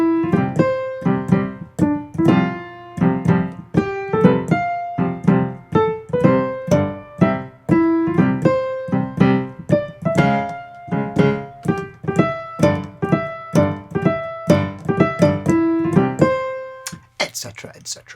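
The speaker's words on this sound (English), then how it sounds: "the whole thing sounds like this." Piano playing a simplified beginner arrangement of a film theme, a clear melody over steady chords for about seventeen seconds, close and fairly loud, ending in a short pause with no talking.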